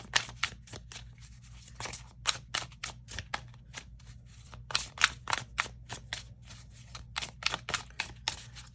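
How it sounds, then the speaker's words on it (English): Tarot cards are shuffled by hand in quick bursts of crisp, papery riffling clicks, close up and fairly quiet, coming in uneven rapid runs with short pauses. "One more shuffle."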